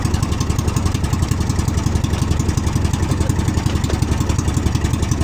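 A boat engine runs with a loud, close, rapid pulsing chug, its steady beat slightly uneven as it misfires, with no voices over it.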